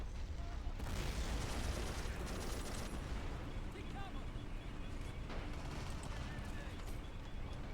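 Mortar fire from the video game Army Men of War, a dense rumble of explosions and battle noise that goes on throughout without letting up, loud and continuous, with speech likely mixed in.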